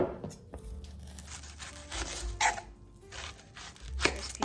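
An onion is chopped for potato salad, with a series of irregular knife strikes and crisp crunching cuts on a board, fairly quiet and close, with some rustling between strikes.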